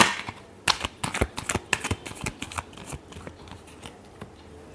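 Tarot cards are shuffled by hand in quick riffling bursts of sharp crisp snaps, close and distinct, thinning out toward the end with no talking.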